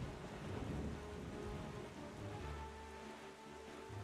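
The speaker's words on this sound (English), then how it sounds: "There's the storm that winds endlessly over the island that was destroyed." Steady rain pours down in a thunderstorm over a destroyed island in The Legend of Zelda: The Wind Waker, a faint continuous hiss with low rumbling underneath and no voices.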